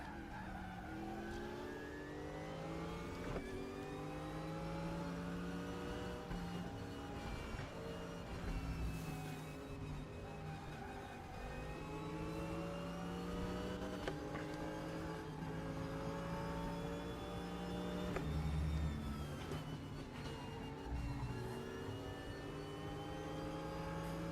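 BMW race car engine in the RaceRoom racing game, a loud sustained roar with rising and falling revs and shifting harmonics throughout, tire squeal and skids mixed in, no talking.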